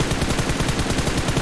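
Dense, loud gunfire in PUBG Mobile, a continuous wash of rapid shots with a steady pulsing rhythm filling the whole moment, no voices.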